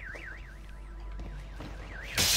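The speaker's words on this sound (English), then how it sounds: "why is that alarm going?" A warbling electronic alarm whoops steadily in a video game, cycling up and down in a continuous siren pattern over low game noise, ending with a sudden loud noisy burst.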